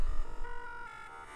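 A phone call tone from the DELTARUNE video game plays alone, a steady eerie electronic drone with sustained pitched tones and a low throb, fairly quiet.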